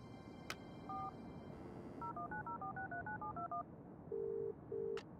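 Telephone keypad dialing tones in the video game Broken Sword 3: a single beep, then a quick run of about a dozen short DTMF tones, followed by two longer lower ringback-style tones, clear and alone.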